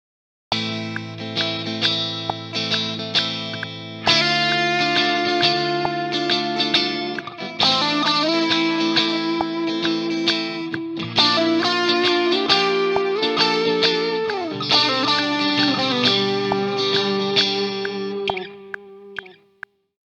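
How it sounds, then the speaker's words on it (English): A sustained, distorted electric guitar lead with a delay effect plays a melodic line, echoing repeats trailing each note over a steady backing, ending abruptly. "we set up a delay effect send on a separate track for the lead guitar"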